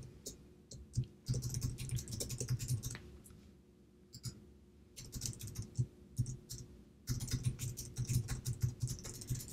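Computer keyboard typing in bursts of quick clicks with short pauses, entering a name while setting up a newsletter sender profile in Squarespace; close and fairly soft, with no talking.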